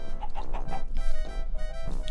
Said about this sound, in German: Genau, das waren die Hühner da oben.